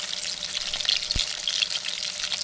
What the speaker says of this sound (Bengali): মাছ ভাজা এক পিঠ উল্টে দিলাম